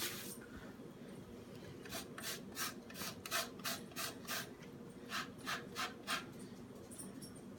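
Rhythmic rasping strokes as lime zest is scraped out with a kitchen utensil, about a dozen quick, close scrapes in two runs separated by a short pause, quiet and with no voices.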